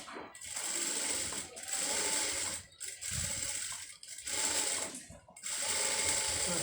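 A sewing machine top-stitches the seam of a round maxi dress, running in close, loud stretches that stop briefly about four times between bursts of whirring, with no voice.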